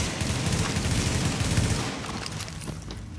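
Dense automatic gunfire rattles nonstop in The Division during a hard-mode Dragons Nest incursion, loud sustained bursts that thin slightly toward the end.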